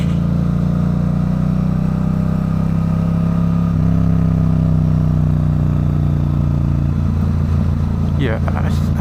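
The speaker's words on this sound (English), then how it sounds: "My favorite thing to do. Rev match." A 2024 Suzuki GSX-8R motorcycle engine hums steadily, then a quick rev-match blip sounds near the end during a downshift, loud and close, with speech present over the engine.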